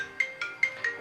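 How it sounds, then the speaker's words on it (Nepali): Incoming-call ringtone from a Mibro Air smartwatch: a short repeating electronic chime pattern, four evenly spaced bright pulses over a steady tonal hum, close and fairly quiet with no voices. "कल गर्दा चाहिँ यसरी तपाईलाई यसरी नोटिफिकेसन आउँछ"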